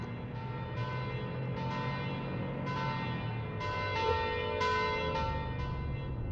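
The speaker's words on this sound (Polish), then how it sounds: "Biją dzwony, biją." Church bells in Poland ring continuously at a steady rhythm, strikes overlapping into a sustained, resonant metallic wash heard from some distance while driving.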